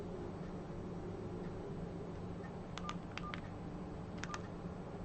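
An Opel big button mobile phone gives out three short pairs of keypad beeps. The beeps are faint and spaced apart over a steady hiss.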